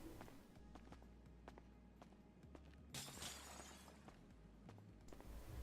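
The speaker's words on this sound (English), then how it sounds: "So that glass breaking sound is very weird and mysterious" Glass shatters inside a nightclub in the GTA 5 video game: one bright, crashing burst midway through, set against a low ambient hum and soft footstep-like thuds, with no voices.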